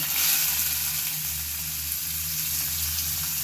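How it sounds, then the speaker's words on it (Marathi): Onion fries in a steel wok, giving a continuous close hiss of sizzling oil with faint stirring scrapes and no speech. "कांदा हा आपल्याला छान लाल परतून घ्यायचा आहे"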